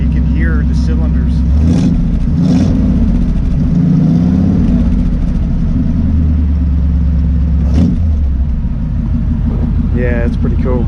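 A custom 1936 Ford cabriolet's engine runs with a lumpy, Harley-like cylinder beat and low rumble, with a couple of brief revs, while someone talks over it close by.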